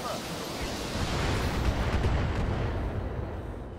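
Weapon fire from a battle mech in the BattleTech video game roars as a dense, sustained rumbling barrage of blasts filling the whole span, loud and close, with a voice talking underneath.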